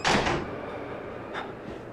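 A door shuts in the horror video game Outlast with one sharp thud at the start, then a low, quieter rumble with a faint knock near the end.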